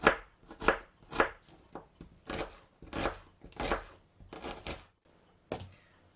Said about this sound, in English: I like to chop the vegetables quite fine for this